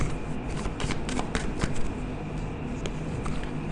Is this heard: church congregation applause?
no